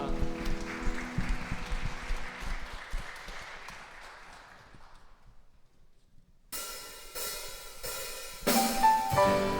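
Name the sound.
applause in church service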